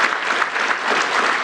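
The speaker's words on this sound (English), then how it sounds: "can we give a big round of applause" An audience at a Gauteng economic conference applauds the Deputy President, a dense sustained clapping that fills the space evenly throughout.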